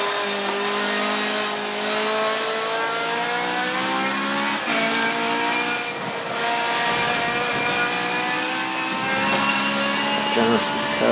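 Ferrari race car lapping the track during testing, a loud, continuous high-revving engine whine with rising and falling gear changes, close and sustained throughout.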